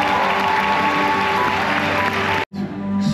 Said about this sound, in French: merci d'accueillir avec un tonnerre d'applaudissements nos chefs d'orchestre de la soirée